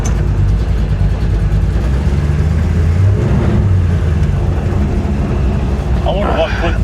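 A 1966 Chevrolet Impala with a damaged, noisy rear differential drives along, its loud low engine and drivetrain drone steady throughout with a whining rise near the end.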